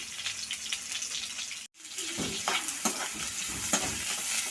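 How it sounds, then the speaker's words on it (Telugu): Bitter gourd and onions fry in a pan while being stirred, a steady close sizzle with scraping, rustling spatula strokes and a brief break in the middle. "వీటన్నిటిని ఒకసారి మళ్ళీ కలుపుకుందాం మనం"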